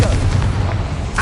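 Confringo blast spell in Hogwarts Legacy, a short loud burst and boom with a crackling tail, heard close under a spoken voice.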